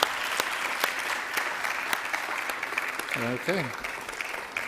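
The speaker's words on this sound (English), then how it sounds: "give these students a big round of applause" A white coat ceremony audience applauds students with broad, steady clapping, and a brief spoken word cuts in near the end.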